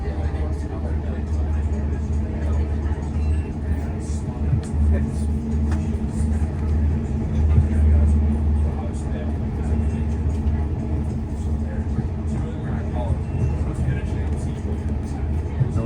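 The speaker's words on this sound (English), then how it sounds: "I can hear the diesel engines now." Low, rumbling engine drone runs throughout, heavy and continuous like idling diesel locomotives, from a Long Island Rail Road DM30AC diesel locomotive, with faint voices and background noise on top.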